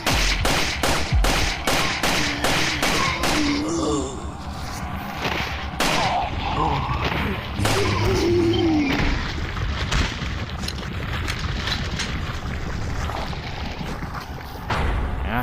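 Rapid video game gunfire, sharp repeated shots in quick bursts mixed with booming explosive rounds hitting a hard-shelled enemy in sewers, loud and close, with a voice talking intermittently underneath.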